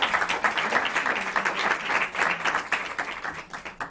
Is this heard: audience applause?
yes